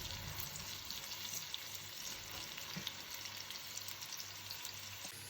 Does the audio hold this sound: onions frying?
yes